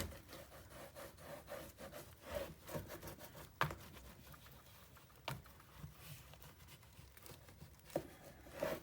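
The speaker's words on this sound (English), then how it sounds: "let's give this a good old burnish" Paper is rubbed with a burnishing tool on a 9 x 9 scrapbook mini album page, a faint, close scratchy rubbing in repeated strokes with occasional soft taps.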